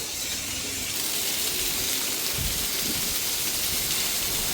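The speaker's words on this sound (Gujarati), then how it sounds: "જો વરસાદ આવે છે કેવો અમારે." Heavy morning rain pours down outdoors as a dense, continuous hiss with a broad watery wash and a low rumble underneath, steady and unbroken throughout.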